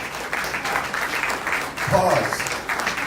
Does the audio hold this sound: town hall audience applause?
yes